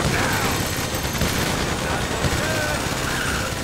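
Continuous rapid gunfire rattles over a dense, noisy Grand Theft Auto V game soundscape during a police chase, with shouted voices mixed in throughout.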